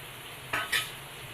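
Whole spices, including cardamom, mace, star anise, cinnamon, cloves and fennel seeds, fry in a couple of spoons of oil with a soft, steady sizzle, interrupted by two quick louder scrapes close by.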